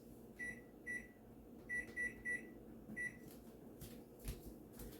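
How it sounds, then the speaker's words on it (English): A series of short, high keypad beeps, some in quick pairs and triples, from a microwave timer being set for 30 minutes, over a low background hum and faint clatter. "And I'm going to set my microwave timer for"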